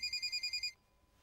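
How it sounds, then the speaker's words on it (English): A mobile phone ringtone plays as a quick, bright electronic trill in six rapid pulses lasting under a second, then cuts off into near silence. "Wait, my phone's ringing."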